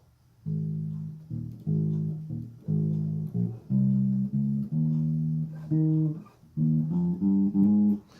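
Low plucked bass guitar notes in a repeating pattern of sustained tones, stepping upward near the end, played alone and close: the intro of a gospel song.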